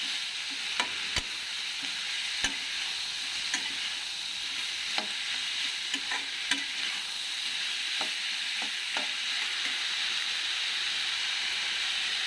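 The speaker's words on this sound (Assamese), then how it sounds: "খুব ভালকৈ এইখিনি এতিয়া মিলাম অলৰেডি অলপ মেল্ট হৈ গৈছে" A melting mixture being stirred in a pan for a simple home recipe, a steady soft sizzle and hiss throughout with faint scraping clicks of the spoon at irregular moments.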